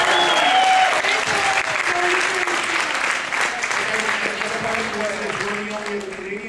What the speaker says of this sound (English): I'll give a round of applause for Ronnie James Dio